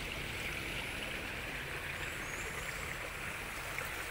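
Water flows steadily in a continuous, even rush, like a stream heard up close, with no voices.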